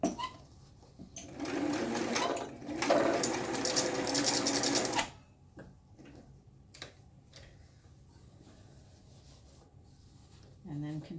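A sewing machine stitches along the edge of a fabric flap, running in a loud steady burst for about three seconds with a brief pause, then stopping, followed by quiet handling and faint ticks.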